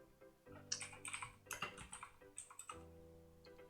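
Typing on a gaming computer keyboard, a close run of quick, uneven key clicks and clacks in short bursts with brief pauses between them, no voices over it.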